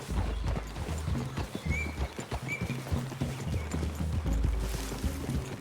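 Steady clip-clop of several horses' hooves moving at a walk in the video game Red Dead Redemption 2, with an occasional whinny and creaking tack, fairly close and continuous.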